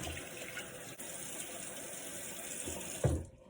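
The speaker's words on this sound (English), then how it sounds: "when I'm rinsing, I always rinse with cold water" Cold water running from a bathroom tap during rinsing, a steady close hiss of flowing water that ends in a brief splash before the tap is shut off.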